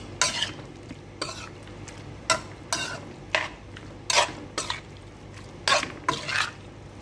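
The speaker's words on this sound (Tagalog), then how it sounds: "Halo-haloin ito ng mabuti." Shrimp in a creamy mixture is stirred in a pan with a utensil, giving repeated scraping strokes in an irregular rhythm, close and moderately loud, over a low steady hum.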